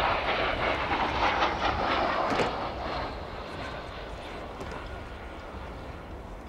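A Gloster Meteor T7 jet trainer with two Rolls-Royce Derwent 9 turbojets roars at an air show, a broad, steady turbine rumble that swells and then slowly recedes.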